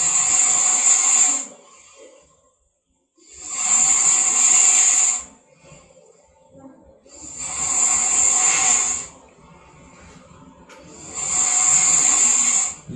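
Loud snoring from a person during a snoring and sleep apnea consultation, with four long rasping breaths on the inhale. Each lasts about one to two seconds, with quiet gaps between them. Nobody speaks.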